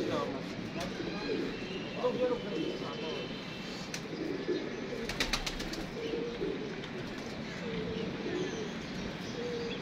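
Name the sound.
pigeons flying and cooing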